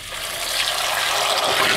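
Running water pours and splashes steadily over jalapenos being rinsed in a bowl, a loud, continuous wash with no voices over it.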